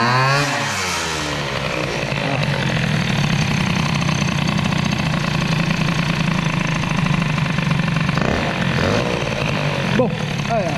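A Peugeot 103 moped with a flooded carburettor revs hard and continuously, its two-stroke engine buzzing loud and close with rising and falling pitch sweeps, a voice speaking over it.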